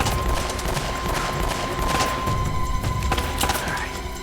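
Gunfire in Uncharted: Drake's Fortune rattles out as rapid, dense bursts of shots with thuds and impacts, loud and close and continuing throughout.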